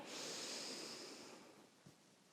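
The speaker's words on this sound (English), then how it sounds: "breathing in." A deep inhalation through the nose, quiet and close, with a long airy intake that fades. A faint soft bump follows near the end.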